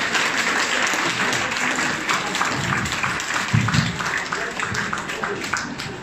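Warm applause from an audience at an art exhibition opening, steady dense clapping that fills the whole stretch and stays loud throughout, with no voices over it.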